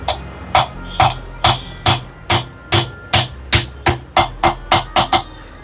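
Sharp metal-on-metal hammer blows on a socket as a ceiling fan bearing is driven into place, about fifteen evenly spaced close strikes in a steady rhythm, each a bright ringing clank.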